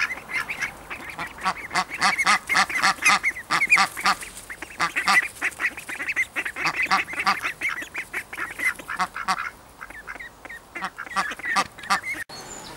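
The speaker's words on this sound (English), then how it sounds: "I was assuming that the ducklings were going to instantly bond with the adult ducks" Adult ducks and ducklings quack near the microphone in a suburban backyard, giving a dense, continuous run of rapid, overlapping honking quacks throughout.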